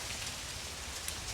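Rain falls steadily in the morning outside a school, a dense, even hiss of drops on surfaces that stays constant throughout, with no talking.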